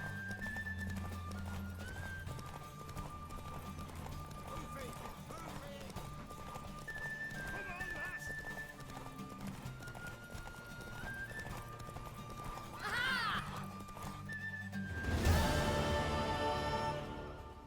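Hooves clip-clop at a steady gallop beneath game music in The Witcher 3: Wild Hunt, ending with a loud neigh and a burst of noise near the end.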